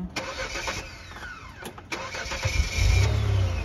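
A car engine is started during a driving lesson with the foot on the brake and the automatic gearbox in park: quiet clicks and shuffling, then a sudden crank that catches into a steady, close idle.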